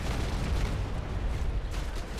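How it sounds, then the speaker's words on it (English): Grenades and explosions rumble through a street battle in the mobile shooter Go4MC5, a dense continuous low roar with overlapping blasts and no clear gaps, moderately loud throughout. "sound of all those grenades and explosions rocking the streets to their very core"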